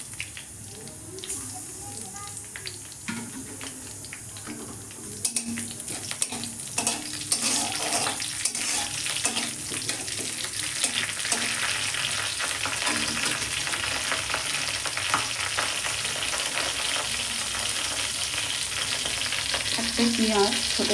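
Panch phoron spices with a halved dried red chilli and bay leaf sizzle in hot mustard oil in a kadai, a steady crackling fry that grows denser over time, with a voice talking at times.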